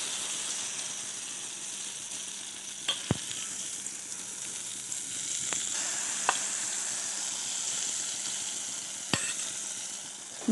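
Batter-coated balls of dough dropped one by one into hot oil, giving a steady, fairly quiet sizzle of frying with a few sharp clicks and taps scattered through it; no voices.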